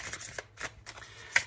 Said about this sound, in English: how I shuffle my cards